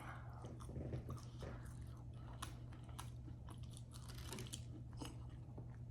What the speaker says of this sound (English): I'm tearing this chicken up.